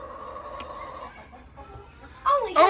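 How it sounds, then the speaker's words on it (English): Chickens clucking while being fed grubs, soft nearby clucks and murmurs followed by a sharper, louder squawk near the end. "Hey, chicken. Come, get the grubbies."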